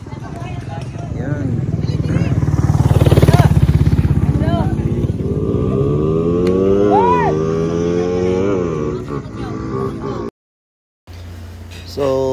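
A motorcycle road test at a drag racing spot in Tagum, the bike's engine revving up and climbing through a long pitch sweep, loud and close, with voices talking over it.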